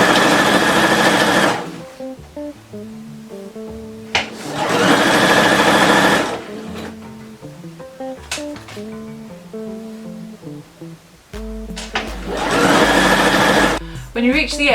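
A sewing machine stitches bias tape onto a dress in three loud bursts of rapid whirring, with pauses between them where a person talks quietly.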